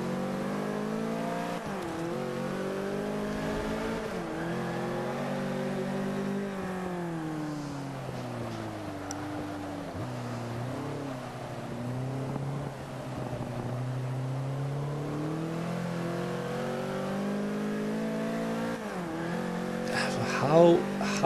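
A race car engine in Forza Motorsport 5 drones and revs continuously at Road America, its pitch rising and falling through gear changes, loud and steady, with a brief tire squeal near the end.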